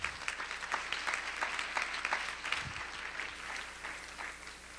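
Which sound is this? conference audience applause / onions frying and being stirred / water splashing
conference audience applause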